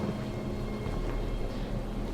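A rainstorm with thunder, the rain heavy enough to wash out a bridge: a steady, dense hiss of rain with a deep low rumble underneath, continuous and fairly loud, with no one talking.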